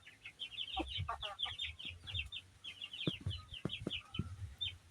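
Several chickens cluck in short, uneven bursts close by, with soft low thumps and rustling underneath; no talking.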